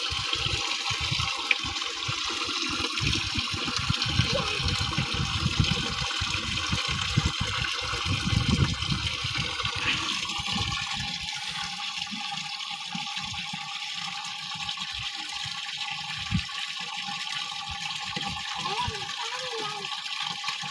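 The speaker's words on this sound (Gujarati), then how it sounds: "જુઓ, પાણી આવી ગયું." Water gushing and splashing into a cleaned concrete cattle water tank, a steady rushing flow that continues throughout with a speaking voice over it.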